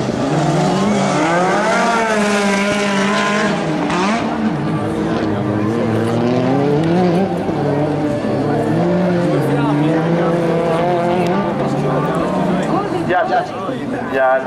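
Rallycross supercars at Maggiora, Italy, roar and rev with tires squealing through drifts, while an excited Italian commentator talks continuously over the engines.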